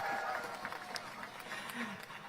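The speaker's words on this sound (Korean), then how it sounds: "깊은 울림의 말씀을 해주신 우리 이석연 위원장님께 큰 박수 부탁드립니다" A political rally crowd applauding, with a steady wash of clapping and scattered cheers from many people at middling distance, lasting the whole short stretch.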